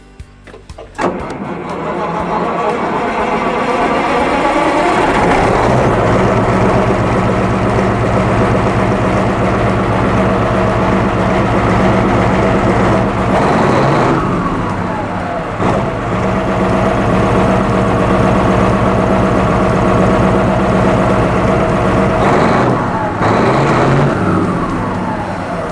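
A big Massey Ferguson 4880 tractor engine starts up and settles into a loud, steady diesel rumble, with slight changes in pitch as it runs close by.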